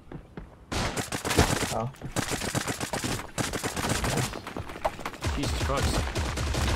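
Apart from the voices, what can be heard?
gunfire in a video game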